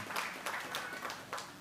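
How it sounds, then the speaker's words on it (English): Audience applause at the opening of a political party office and launch of its shadow MPs, a brief burst of scattered clapping heard faintly in a hall. "a round of applause for Felicia Holder once again"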